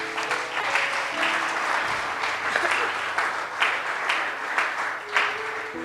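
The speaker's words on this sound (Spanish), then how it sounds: "Dele palmas al Rey de la gloria." Congregation at a church service clapping in praise, a dense steady wash of applause lasting throughout with a few faint voices mixed in.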